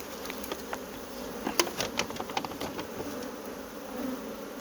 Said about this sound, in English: these bees haven't been fed in a month and over